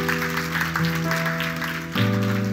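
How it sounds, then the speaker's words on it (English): A church congregation claps in a steady wash of applause, mixed with sustained music. "Can we give a round of applause?"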